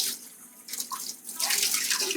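Water sprays from a sanitation hose onto a dirty knife in a kitchen, a loud close hissing rush that starts softly, then swells and runs steadily.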